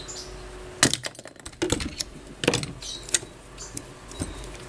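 A hammer drives a size 8 socket against the worn bushing in the aluminium motor housing of a 16-inch Hatari fan, giving several sharp metallic knocks spaced unevenly, close and loud, with no talking.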